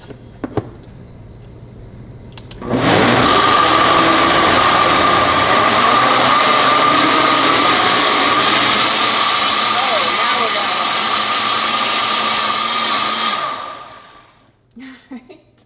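Blender whirring steadily on canned tomatoes for pasta sauce, switched up to a higher speed setting, a loud continuous motor drone of about ten seconds that starts abruptly and winds down at the end, with brief clicks before and after.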